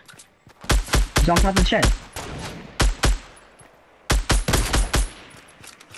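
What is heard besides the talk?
gunfire in the video game Fortnite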